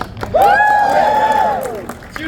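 Audience at a comic convention panel cheering, a loud sustained whoop rising over a broad crowd roar for about a second before fading.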